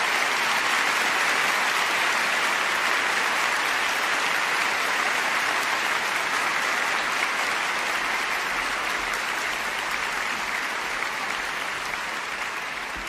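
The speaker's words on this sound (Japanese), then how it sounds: "もう一度大きな拍手" Sustained applause fills a hall at a classical concert, a dense, even wash of many hands clapping that holds steady and fades only slightly toward the end.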